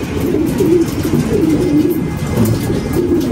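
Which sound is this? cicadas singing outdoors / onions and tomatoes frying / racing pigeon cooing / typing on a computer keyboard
racing pigeon cooing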